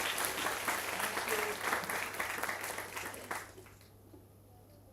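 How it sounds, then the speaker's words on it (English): Audience applause at a university student induction program, a dense steady wash of many hands clapping that fades out near the end, moderately distant, with no talk over it. "A big round of applause, right?"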